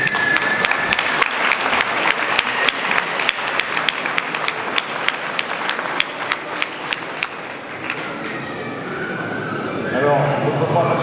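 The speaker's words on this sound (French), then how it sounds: "Et je voudrais qu'on les applaudisse pour leurs résultats et leur engagement." Rhythmic, sustained clapping fills the hall at a 2023 gendarmerie school graduation ceremony for student gendarmes, loud and steady before fading around eight seconds, after which faint voices and room noise remain.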